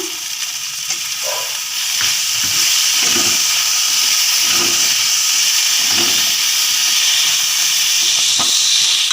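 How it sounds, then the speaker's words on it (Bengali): Chopped onions and a large chopped tomato sizzle loudly in a hot pan, a steady close hiss of frying with soft rhythmic stirring thumps underneath. "পেঁয়াজ কুচি করে রেখেছিলাম দুটো পেঁয়াজ দিয়ে দিলাম একটা বড় সাইজের টমেটো কুচি ছিল ওটাকে দিলাম"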